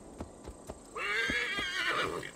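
A horse in Assassin's Creed Valhalla gives a single loud, drawn-out whinny that follows a few soft, spaced hoof knocks.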